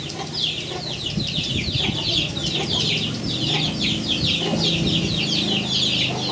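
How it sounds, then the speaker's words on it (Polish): A hen clucks steadily close by while her chicks peep in a busy, high chatter over a low rumble of outdoor background noise at Lake Toba, Indonesia. "Mama kura wyprowadza pisklaczki na spacer."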